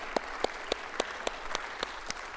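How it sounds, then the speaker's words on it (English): Hands clap in an even, measured rhythm at a college Founder's and Honors Day convocation, about nine distinct claps at a steady pace, faint and set against a quiet hall. "Can we please give an extra round of applause to Mr. Willis"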